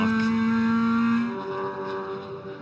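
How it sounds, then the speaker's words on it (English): Onboard a race car lapping Sydney Motorsport Park during the Sydney 300, the engine drones loud and steady with a strong high tone that shifts down partway as the revs change, no talk heard. "Just listening in to the Viola car"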